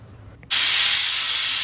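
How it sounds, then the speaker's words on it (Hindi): A pressure cooker on high flame, cooking mutton curry, bursts into its whistle, a sudden loud, sharp steam hiss that starts abruptly and holds steady, close by and with no talking over it. "कुकर का लिड लगाकर 6 से 7 विजल्स तक इसे अच्छे से पका लेंगे"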